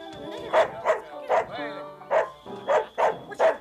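Repeated barking from a small dog indoors, about seven sharp, evenly spaced barks over a few seconds, loud and close, with a brief whimpery whine in the middle.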